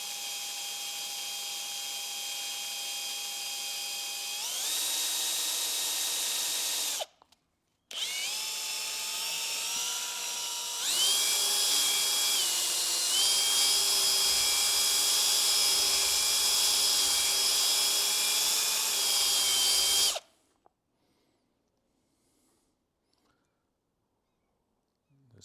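A power drill with a mixing attachment whines steadily while stirring thickening agent into epoxy for strip-plank boat building, running in long loud bursts with a brief stop and a change of speed, then cutting off to near silence.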